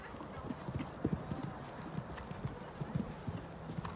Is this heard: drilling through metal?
no